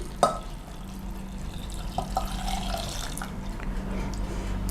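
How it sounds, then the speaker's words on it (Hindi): Water splashes and trickles into a metal pressure cooker, a steady pouring sound with a few small clinks, close by. "और इसमें डालेंगे 2 कप पानी"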